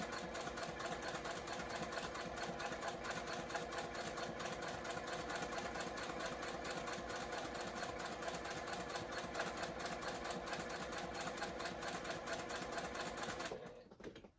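A domestic sewing machine runs steadily at a moderate, even pace while stitching a new pattern, its dense mechanical whirring and rapid needle clatter continuous and close until it stops abruptly near the end.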